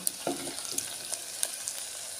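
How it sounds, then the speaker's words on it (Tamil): Soft sizzling of onions sautéing in a pan, with a few light scraping stirs scattered through; fairly quiet and close. "வெங்காயம் இன்னும் கொஞ்சம் நல்லா வதங்கி வரட்டும்"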